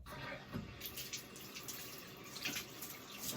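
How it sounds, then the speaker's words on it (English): Tap water runs into a bathtub, a steady faint rushing stream with small splashy bursts. "I'm going to set it back in the tub and put water in all the way to the top"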